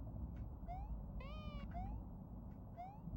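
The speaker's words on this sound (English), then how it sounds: "Oh, there's a cat again." A cat meowing several times in short rising calls, fairly close, over a low steady background hum with no talking.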